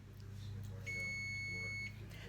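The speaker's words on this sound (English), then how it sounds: "That's the sound of the beep." A kitchen oven timer gives one clear electronic beep lasting about a second, sounding faint over a low background hum while biscuits bake.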